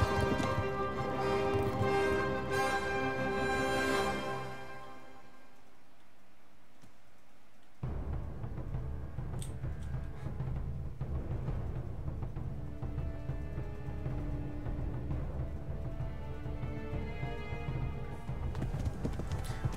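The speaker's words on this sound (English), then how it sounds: "Okay, the horse is galloping," Horse galloping in the medieval video game Kingdom Come: Deliverance, rhythmic hoofbeats that drop out briefly before resuming steadily at moderate volume, with no talk.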